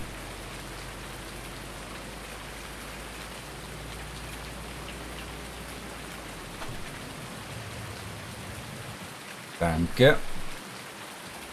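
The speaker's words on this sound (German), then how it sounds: "Aber mach erstmal bitte den Regen weg." Steady rain in Farming Simulator 19 hisses evenly throughout, with a short burst of voices near the end.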